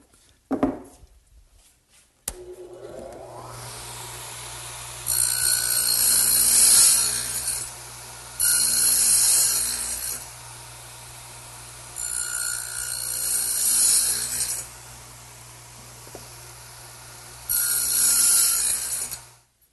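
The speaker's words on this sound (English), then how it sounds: "while I have the dado head set up in the radial arm, I want to make this end piece for my tool storage area" A radial arm saw fitted with a dado head cuts a rabbet joint in an end piece for a workbench tool storage area, giving four loud whining cutting bursts separated by the steady hum of the idling motor.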